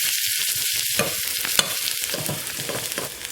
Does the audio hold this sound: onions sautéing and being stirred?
yes